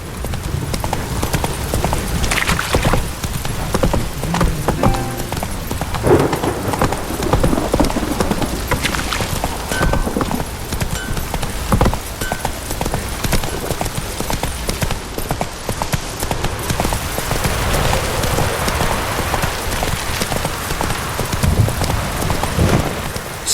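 A horse gallops in The Witcher 3 video game, with loud, rapid, rhythmic hoofbeats close by that run continuously over soft background ambience and occasional snorts.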